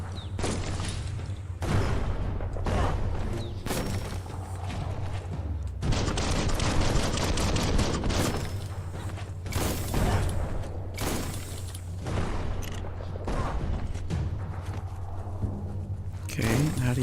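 Bomb lobber enemy in Biomutant hurling explosives: repeated booms and bursts of gunfire-like blasts throughout, loud and dense, with a low steady drone of game music underneath.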